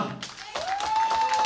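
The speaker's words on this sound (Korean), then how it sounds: "박수 한번 주시면 감사하겠습니다" A concert audience at Bupyeong Arts Center applauds in a brief burst of clapping and taps, with a sustained tone ringing through underneath.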